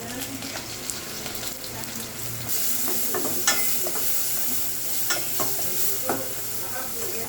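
Green chilies, cumin, chili powder and turmeric frying in a pan for a lentil and drumstick curry, steady sizzling that grows louder partway through, with intermittent stirring clinks and scrapes.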